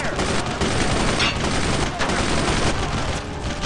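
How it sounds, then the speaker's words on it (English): Sustained machine-gun suppressing fire pours out in a dense, continuous rattle during a Brothers in Arms World War II squad battle, loud and close with no break, a voice faintly under it. "Suppressing fire!"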